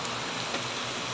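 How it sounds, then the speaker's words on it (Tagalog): Heavy rain pours near a market, a dense, steady hiss of falling water with no talk over it. "Grabing ulan."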